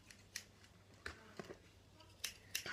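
A pair of scissors taken from a school pencil case makes a handful of quiet, sharp snipping clicks up close, spaced irregularly.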